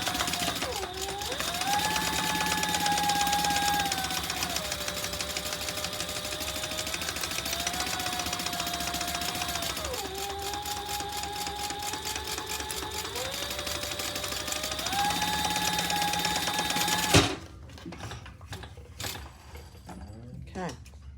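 Sewing machine stitching a seam on a Pebble Mini Sling bag, a close, steady mechanical hum with rapid needle chatter in several bursts between short pauses, stopping abruptly near the end.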